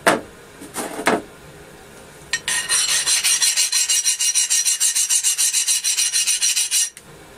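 A steel file skips across a hardened old file in rapid, even rasping strokes that run for several seconds, after a few short, separate scrapes at the start.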